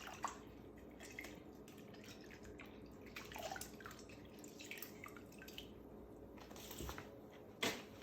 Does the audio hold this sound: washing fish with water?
yes